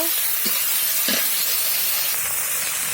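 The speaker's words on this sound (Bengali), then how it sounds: "তো এই তো চিংড়ি মাছটা ভেজে নিচ্ছি।" Shrimp frying in hot oil with onion gives a steady, close hiss and sizzle, with brief stirring knocks, and no talking.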